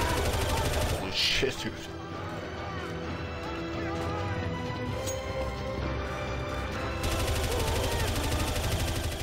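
Rapid gunfire crackles in Counter-Strike: Source on a zombie escape map, dense and continuous bursts close to the listener, with players talking excitedly over the shooting.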